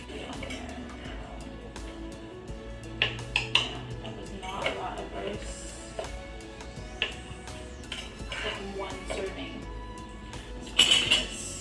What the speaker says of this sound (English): So I'll probably clean that pan before I eat too.